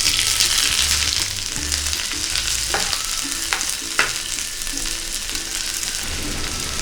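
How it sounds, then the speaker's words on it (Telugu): Thinly sliced onion frying in hot ghee in a pan for a chicken fry, a steady loud sizzle with a few sharp stirring scrapes and clinks partway through, no talking. "నెయ్యి వేడెక్కిన తర్వాత సన్నగా కట్ చేసుకున్న ఉల్లిపాయలు వేసుకోవాలి."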